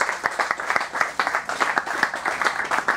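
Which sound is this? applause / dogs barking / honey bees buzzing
applause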